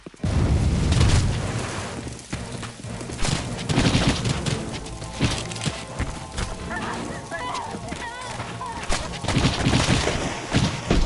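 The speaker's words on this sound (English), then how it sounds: "Fire explosion that sets enemies running." A fire explosion goes off in a video game alongside other combat effects: booming blasts, crackling bursts and thuds that rise and fall across the stretch, loud and busy.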